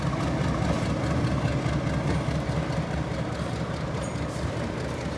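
The 12353 Howrah–LalKuan Express pulling out of Howrah, heard from aboard as a steady, loud, low rumble of wheels and carriages rolling along, without talk.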